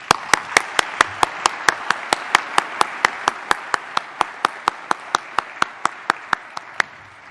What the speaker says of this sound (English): Give this great group a round of applause.